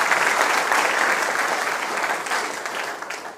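Students at a college panel event give a guest a loud, sustained round of applause, dense crowd clapping that holds steady throughout and eases slightly toward the end.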